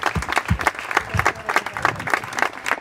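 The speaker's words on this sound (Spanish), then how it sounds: "¿Cuánto le atreven a dar un aplauso a estos pastores?" A wedding ceremony crowd claps steadily for a few seconds, dense and fairly loud, with no voices rising above the applause.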